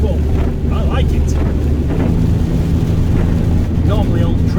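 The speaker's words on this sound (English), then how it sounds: "It's wet, cold and windy." Strong wind buffets the microphone in wet, cold weather outdoors, a loud continuous rumbling roar with gusty swells throughout, mixed with a low engine drone.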